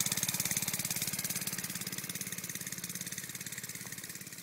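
A small motor vehicle ridden around a yard, its buzzing engine running steadily and close by for the whole stretch, with no one talking over it.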